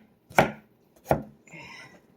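A knife chops hibachi vegetables on a board with two sharp, close chops about a second apart, followed by a softer brief scraping sound.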